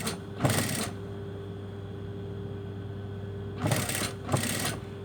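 A sewing machine topstitches a seam where a blouse joins a pair of trousers, running in two short loud bursts separated by a steady low motor hum, with no talking.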